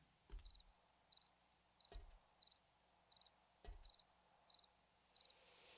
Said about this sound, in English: Chirpity chirp of the little crickets.